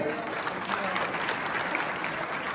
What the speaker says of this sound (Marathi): सर्वजण आले आहेत टाळ्याच्या गजरामध्ये